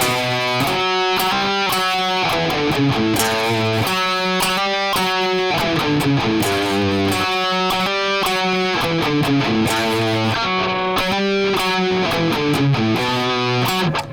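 Distorted electric guitar plays a steady, rhythmic run of harmony notes from a song, shifting between low bass notes and higher melodic lines, loud and continuous.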